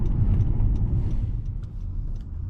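A 2017 Honda Accord Touring Coupe with a 4-cylinder engine drives along, heard from inside as a steady low engine and road rumble lasting throughout, with a few faint higher clicks over it and no talk.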